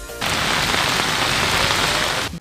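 Heavy rain pours down in Karachi, a loud, dense, continuous hiss of drops hitting surfaces. It starts abruptly and holds steady until it cuts off, with no voices.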